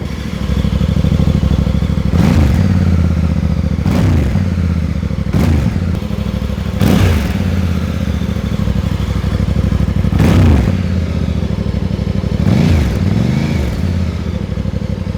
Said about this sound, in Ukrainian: цей вихлоп дуже має приємний звук, однозначно